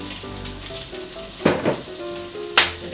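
An egg fries in oil and bacon fat in a non-stick pan, giving a steady close sizzle with a few sharper crackling spits and pops breaking through.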